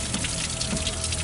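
A car windshield washer pump motor runs and water sprays and splashes continuously, a faint, brief, close wet hiss with no talk over it.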